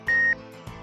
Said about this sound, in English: Dive computers also have alarms, audio and visual, that warn you if you exceed the maximum ascent rate.